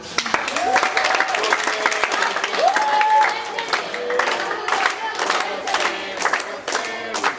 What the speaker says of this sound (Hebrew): אני מבקש מחיאות כפיים קודם כל